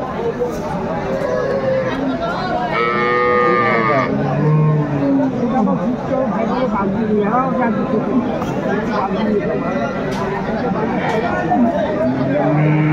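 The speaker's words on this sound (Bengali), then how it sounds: "বেশ সুন্দর গাভী বাছুর আমরা দেখছিলাম এখানে।" Cows and calves low repeatedly at a busy rural cattle market, the drawn-out moos rising above constant crowd chatter and nearby talking.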